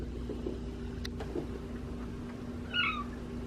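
Pet cat indoors giving one short meow near the end, faint against a quiet room hum with a low steady drone underneath.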